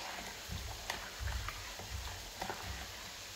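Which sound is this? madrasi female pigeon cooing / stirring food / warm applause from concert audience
stirring food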